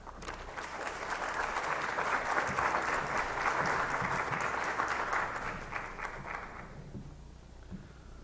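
A lecture audience applauds steadily to welcome Professor Andrew Casper to an art history talk, a full room of clapping that swells, holds for several seconds, then thins out and fades.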